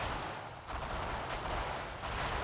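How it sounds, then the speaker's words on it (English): Anti-aircraft gun firing in Forgotten Hope 2, a World War II battle game set at Bastogne; dense, continuous rumbling gunfire and blasts fill the whole stretch at steady loudness, with no clear gaps between shots. "I need to take that AA gun down. It's right in front of him, shooting at him."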